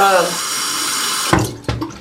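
Water runs from a tap in a steady stream while the face is being wetted, then cuts off. Two short splashes follow near the end.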